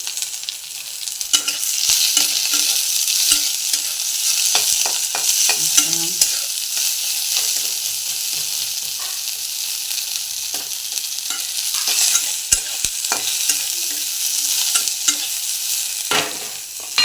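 Onion sautés in a pan with a continuous loud sizzle, while frequent scraping and clicking stirring strokes sound close by throughout and nobody speaks.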